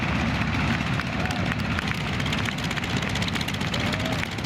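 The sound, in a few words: T-28 propeller airplane engine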